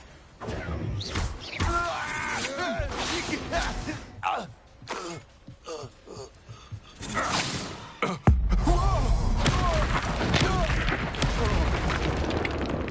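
Confringo blasting spell explosions in the video game Hogwarts Legacy: one sharp, loud burst rings out among busy combat effects, grunts and voices, followed by a sustained rumbling blast.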